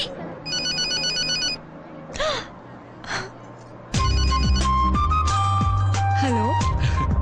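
A mobile phone rings with a bright electronic melody in short bursts, with brief voices between them, then rings louder and fuller from about halfway, continuing to the end.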